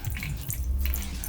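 Wine being poured from a bottle of 2019 St Francis Zinfandel, a short close trickle and drip of liquid with a steady, fairly loud splashing texture and no talking.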